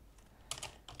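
Quiet keystrokes on a computer keyboard while coding, a few light clicks and a quick cluster of taps near the middle, then another short pair at the end, close and soft against a low background hum.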